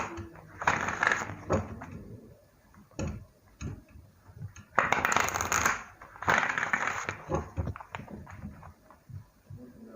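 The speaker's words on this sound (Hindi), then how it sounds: "मेरे कार्ड शफल क्यों नहीं हो रहे हैं भाई" Tarot cards shuffled by hand in quick bursts of dense riffling and papery flicks, with short pauses between sets, close and fairly loud.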